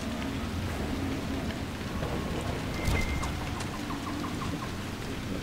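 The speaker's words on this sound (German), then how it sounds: "Bei dem Regen, ne? Das ist ganz schön heftig." Heavy rain falls in the game Dragon Age Inquisition, a dense steady hiss of drops with faint distant rumbles underneath, and no talking over it.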